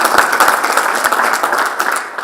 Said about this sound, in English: That's an applause, yes.